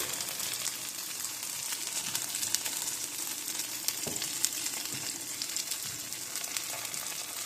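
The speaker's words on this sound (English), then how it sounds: "Go ahead and cook that egg down." An egg fries in a pan for a breakfast bagel, giving a steady close crackling sizzle with small pops throughout.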